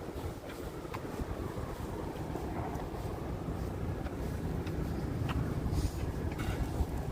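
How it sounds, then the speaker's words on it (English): Evening wind in Madison Square Park, New York City, a steady low rumble of gusts buffeting the microphone, growing slightly stronger over several seconds with faint distant city sounds and no talking. "Now it's windy. Now it feels much windier than before."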